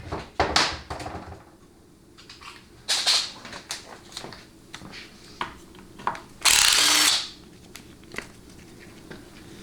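A ratchet wrench removing the 7/16 line pressure tap plug from a 4L60E transmission: repeated loud clicking bursts of ratcheting with short pauses, then a longer harsh rasp, close up.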